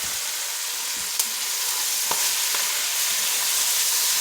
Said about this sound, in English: just enough to fry the cabbage.